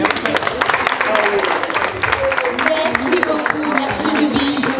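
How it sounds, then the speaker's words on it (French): An audience claps together in sustained, dense applause that runs several seconds at a lively level, with a few voices and a speaker faintly mixed in beneath the crowd. "Vous pouvez l'applaudir à nouveau"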